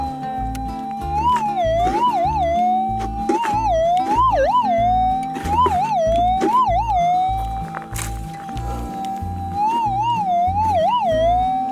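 A metal detector held over a buried target gives a loud, steady electronic tone that repeatedly warbles and wobbles in pitch as the coil sweeps back and forth, with no talking.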